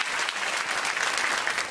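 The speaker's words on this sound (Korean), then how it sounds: "큰 박수로 한 번 더 수고하셨다고 격려해 주시고요" Congregation applauding at an early-morning autumn special revival service in a church, steady dense clapping throughout, loud and even with no pauses.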